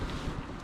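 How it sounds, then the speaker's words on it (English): Wind buffets an outdoor microphone in a steady, low rumbling gust that lasts under a second, close and fairly loud, with no talking. "Damn, it's windy"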